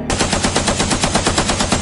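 Ear-splitting rapid gunfire in a war film scene with terrorists, a dense, loud, continuous burst of machine-gun shots in steady rhythm, with no talk.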